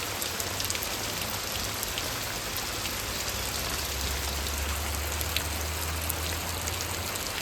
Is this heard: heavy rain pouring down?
yes